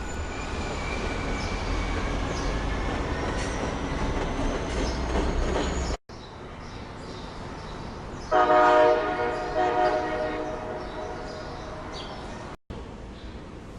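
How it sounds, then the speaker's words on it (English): Two CSX freight diesel locomotives cross over SEPTA tracks on a bridge, a loud steady rumble of engines and wheels, then a sharp blaring horn blast after a brief cut, with some wheel squeal. "Nearby, two CSX diesels cross the SEPTA tracks on a bridge."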